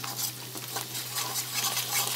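Okra and shrimp masala with whisked yogurt stirred in a pan: a steady, close scraping and gentle sizzle over a low kitchen hum, with no talking.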